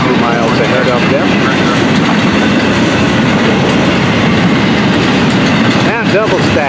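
An FEC freight train hauling double-stack cars passes close by with a loud, steady roar and rolling rumble, rail clatter running throughout and a horn-like tone rising near the end.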